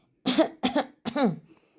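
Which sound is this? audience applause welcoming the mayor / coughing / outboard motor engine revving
coughing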